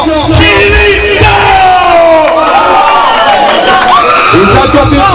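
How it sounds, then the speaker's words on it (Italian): A nightclub crowd at an urban dinner club in Naples cheers and yells loudly for Maurizio Cilindro, a dense wash of shouts and whoops up close with voices rising and falling throughout. "un ultimo applauso a Maurizio Cilindro!"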